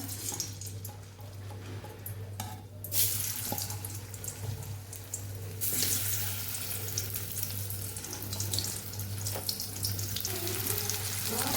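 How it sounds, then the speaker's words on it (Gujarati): Cauliflower drops into hot oil in a kadai for a Kathiyavadi restaurant-style cauliflower and peas curry, setting off a steady, loud hiss and sizzle that persists without pause and swells after the first few seconds. "તો અહીં આપણું તેલ સરસ ગરમ થઈ ગયું છે. એમાં આપણે ફ્લાવરને ઉમેરી દેવાનું છે."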